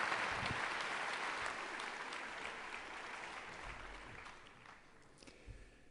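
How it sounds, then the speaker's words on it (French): Audience applause at a French conference on climate warming, a broad crowd clapping that starts fairly strong and slowly fades as hands stop, ending in a few scattered claps. "je vous propose également de l'applaudir"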